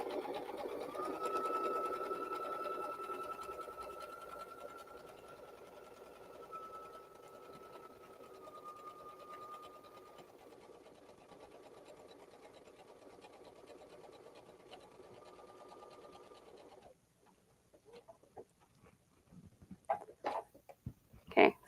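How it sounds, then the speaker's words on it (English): A sewing machine stitches a scallop edge in fabric with a steady, close motor hum for about seventeen seconds, then stops, leaving a few faint clicks and handling noises. "turn your fabric so that you can sew down the side of the scallop again."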